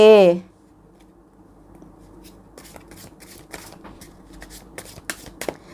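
Tarot cards being shuffled by hand, a run of soft riffling flicks and taps close by, starting after a short burst of voice.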